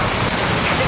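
Hail falling during a storm in Coffeyville, Kansas, a dense, loud, continuous patter of stones striking surfaces with no voices.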